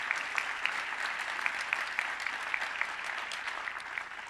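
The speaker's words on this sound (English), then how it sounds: "let's give them a warm, warm round of applause" An audience at a STEM education event about the ISS National Lab gives students warm applause. The dense, even clapping sounds somewhat distant and fairly quiet, with sharper individual claps popping through and no talk over it.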